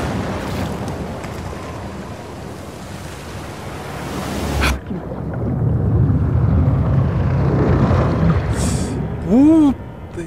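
Water splashes and ocean surf in the game Uncharted 4 after a character falls into the sea, with wind and engine-like rumble, a sharp splash midway, and a voice talking throughout.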